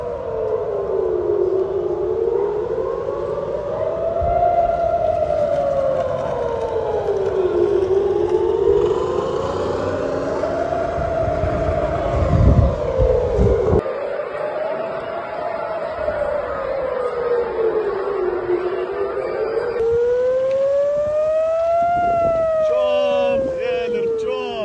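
Several air raid sirens in Israel wail, rising and falling in long overlapping sweeps, loud and sustained, with some background noise and a shift midway.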